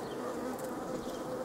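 Honey bees buzzing at the hive, a dense continuous drone of many insects close by, steady in loudness with no voices over it.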